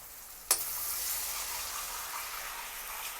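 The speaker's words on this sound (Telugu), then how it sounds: "ఇప్పుడు టమాటా ముక్కలు వేసి కొంచెం 2 నిమిషాల సేపు మగ్గించాలి" Chopped onions and tomatoes fry in a pan with a steady, close sizzle. A single sharp clink sounds near the start.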